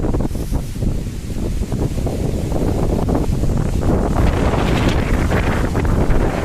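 Strong Cyclone Remal storm wind roars continuously and loudly, buffeting the microphone with heavy rumbling gusts throughout, no voices.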